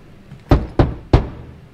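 In Marvel's Guardians of the Galaxy, a hand raps on a door three times in steady succession, close, punchy thuds over a faint ambient hum with no voices.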